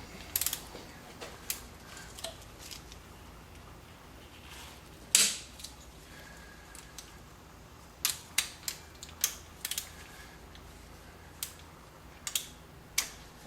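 Clicker-type torque wrench tightening cylinder head bolts on an engine, giving sharp isolated clicks, a few early, then a quick run of ratcheting clicks and a couple at the end, faint background otherwise.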